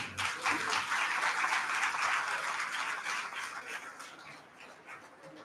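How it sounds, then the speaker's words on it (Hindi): Faint, distant applause from the audience at a two-day national seminar, a soft continuous wash of clapping that gradually thins toward the end. "उनके लिए जोरदार तालियां।"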